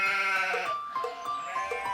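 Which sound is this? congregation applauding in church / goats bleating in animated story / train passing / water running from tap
goats bleating in animated story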